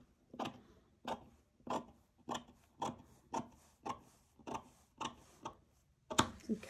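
Blade strokes cut and scrape through the thick paper of a handmade wallpaper journal, nine or ten evenly spaced rasping cuts close to the microphone, each a short sharp scrape, with no talk.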